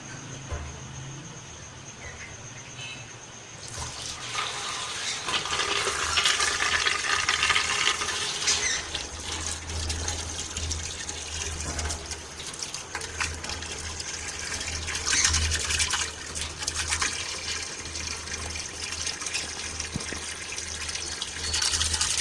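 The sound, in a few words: water being poured into pot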